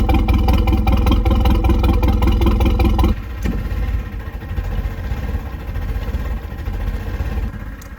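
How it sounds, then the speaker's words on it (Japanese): A fishing boat engine starts, rumbling loudly with rapid firing pulses, then drops to a steadier, quieter idle after a few seconds. "じゃあエンジンかけて"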